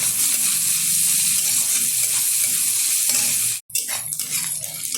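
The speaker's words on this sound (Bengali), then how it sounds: "এখন দিয়ে দেবো এর মধ্যে কুচিয়ে রাখা পেঁয়াজটা খুব ভালোভাবে ভেজে নেব।" Chopped onions fry for a mutton curry with a loud, steady sizzle that fills the clip, briefly interrupted near the end before the hiss resumes, close and alone.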